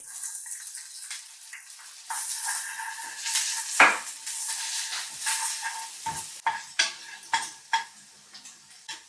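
Minced garlic and ginger sizzle in oil in a pan while being browned, with a steady frying hiss broken by sharp clinks and scrapes of a utensil stirring against the pan, close and clear.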